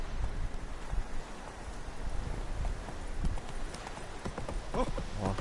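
A horse named in The Witcher 3 runs with a steady clip-clop of hooves under a wash of rain and rustling ambience, moderately loud and continuous throughout.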